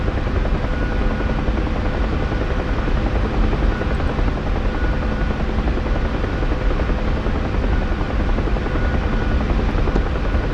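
A UH-1 Huey helicopter in the DCS flight simulator, its rotor and turbine drone steady, loud and close for the whole stretch, with no talk over it.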